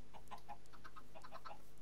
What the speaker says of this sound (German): hier gackert ganz schön laut